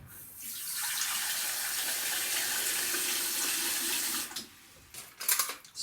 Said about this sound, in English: Water into the saucepan.